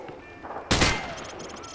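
A single loud, close gunshot at a target through cover in a Call of Duty: Modern Warfare 2 training range, a sharp crack with a short ringing tail, set against a faint background hum.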